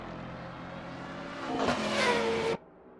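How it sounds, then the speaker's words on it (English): A Mercedes-Benz AMG GT3 race car in a racing video game, its engine droning steadily, then swelling louder in a rising rev over the last second before cutting off abruptly. "Ryan in the Mercedes-Benz AMG GT3 peels off into the pit lane."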